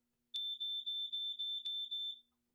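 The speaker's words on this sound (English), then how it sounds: "if it's seeing or sensing LP gas, that's doing what it's supposed to do, is sound an alarm" An RV LP gas detector alarm sounds a rapid series of seven piercing electronic beeps at a steady rhythm, loud and close, alone with no talking, then stops.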